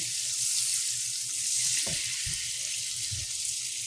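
Butter melting in a hot pan gives a close, steady, bright sizzle throughout, with a few low soft knocks of a utensil partway through.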